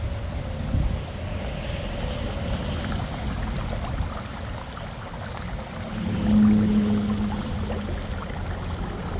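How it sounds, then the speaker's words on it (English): Steady rush of water pouring out of a sump pump discharge during a rainstorm, a continuous splashing flow that swells briefly louder midway, with no voices. "Man, it's a lot of water coming out of there."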